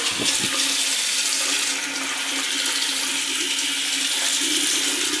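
Water pours from a household faucet in a continuous loud, steady rush, close to the mic and alone, with a faint clunk at the start.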